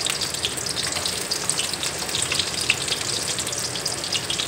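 Onions sizzle and crackle steadily in hot oil in a pan, a close, even frying hiss with no talking, as the base for a gongura and dried fish curry.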